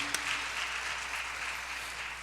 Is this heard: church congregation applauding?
yes